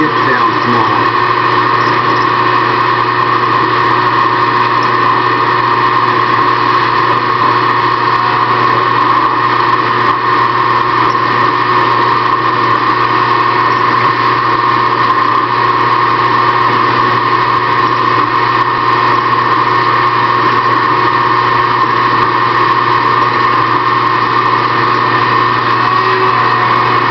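A drill boring into plastic during kitchen-table machining, a steady high whine that holds unbroken at a constant loud level for nearly half a minute, with no pauses or voices.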